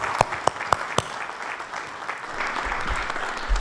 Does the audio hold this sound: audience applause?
yes